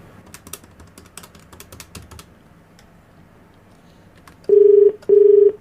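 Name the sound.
telephone number being dialed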